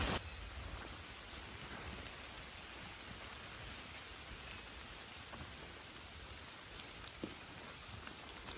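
Steady autumn rain falls in a soft, even hiss, with scattered drops ticking nearby throughout and no voices.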